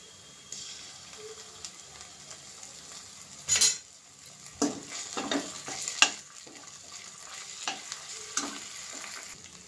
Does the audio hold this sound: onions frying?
yes